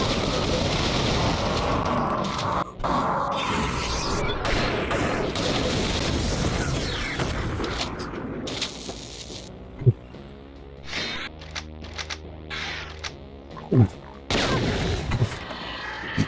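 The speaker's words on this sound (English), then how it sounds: "It fires one grenade that breaks and that splits into 100 grenades." A grenade launcher in a retro first-person shooter fires a single grenade that splits into a swarm of smaller grenades, setting off a dense, continuous roll of booming explosions that gradually thins into scattered bursts and pops.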